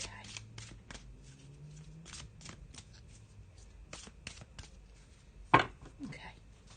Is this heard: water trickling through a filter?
no